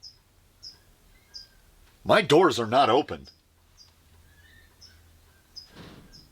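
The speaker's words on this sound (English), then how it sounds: "Sounded like a bird got in here." Short, high chirps from a bird that has got inside a room, repeating at irregular intervals, with a brief burst of talk in the middle and a soft flutter near the end.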